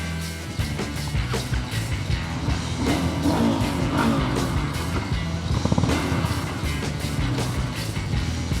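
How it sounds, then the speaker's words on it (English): A Hero Xpulse 200 motorcycle is ridden along a road, its engine humming steadily with shifting pitch and occasional clunks and rattles over bumps, fairly loud and continuous. "now we are riding the Xpulse 200"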